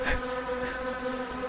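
A steady insect-like buzz with a tonal drone comes from a creature in the puzzle game Windosill, holding close and even for a moment with a brief rustle at the start.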